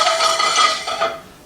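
A metal skillet clinks and scrapes briefly on a stovetop while garlic is being toasted, a bright ringing rattle that tapers off into quiet.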